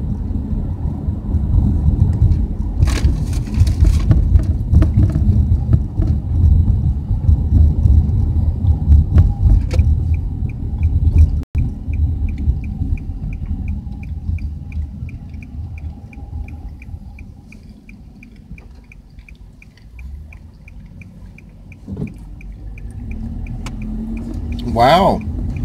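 A van drives through the city with a heavy low engine and road rumble that dips partway, faint chimes and ticking over the top, and a brief voice near the end.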